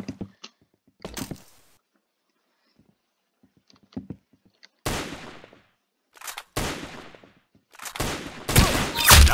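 Gunfire in the video game Arsenal, sparse single shots at first, then loud sustained bursts of rapid automatic fire building toward the end.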